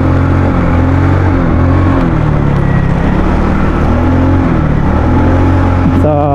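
Stock Rusi Royal 125 motorcycle engine running on a ride, a loud, close low rumble with wavering engine pitch and steady wind and road noise throughout.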